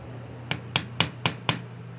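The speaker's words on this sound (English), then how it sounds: "Sometimes you got to tap on the bowl" Five evenly spaced metallic taps ring out against a Yamaha MZ360 generator carburetor float bowl on a Ridgid generator, each a sharp, bright click about a quarter second apart, heard close up over a low steady hum.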